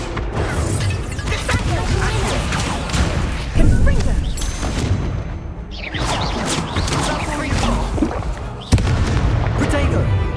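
Repeated Incendio fire spells cast in Hogwarts Legacy during a wand duel, loud crackling bursts and impact booms in quick succession, with a voice talking over the action.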